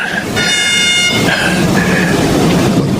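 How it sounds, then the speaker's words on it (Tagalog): A train draws near with a sustained horn blast and steady rumbling roar of rail cars, loud and continuous throughout. "parating yung tren."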